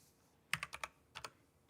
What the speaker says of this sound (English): Hold on, I'm clicky clacking